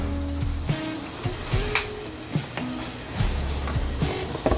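Minced garlic and crushed red pepper flakes frying in a pan, a steady close sizzle with soft scattered pops and occasional stirring knocks.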